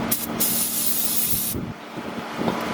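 Brake cleaner aerosol sprays onto the front brakes of a 2019 Kia Forte S in a loud, close hissing burst lasting about a second and a half, followed by quieter dripping and handling noise.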